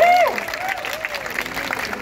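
A street crowd at a carnival of performers in Lublin breaks into applause for a juggling act, the clapping loud at first and then thinning while a voice talks over it.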